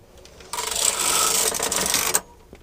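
A knitting machine carriage slides across all the needles in one steady, loud, close pass of rasping mechanical whirr lasting about a second and a half. A sharp clack marks the end of the pass, with no talking over it.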